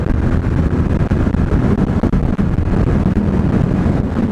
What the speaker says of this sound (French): Il y a un max de vent aujourd'hui, c'est lourd.